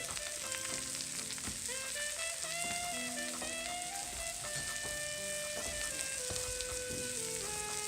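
Butter melts and sizzles in a frying pan with veal, a soft continuous crackle heard faintly beneath prominent background music.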